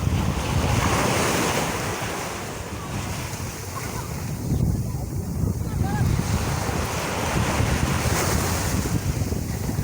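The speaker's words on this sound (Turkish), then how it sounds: "Ayaklarına su vuruyor" Sea waves washing onto a sandy beach where children play, a continuous loud surf roar with rising and falling swells and gusty wind noise on the microphone, no clear talking.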